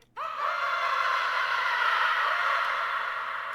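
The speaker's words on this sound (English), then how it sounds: "Just pulled in a little scream because I just want to fill in the gaps" A scream sample from Nexus used in a dark trap beat: one sustained, bright, airy shriek that rises sharply at onset and holds steady for several seconds, alone and clean.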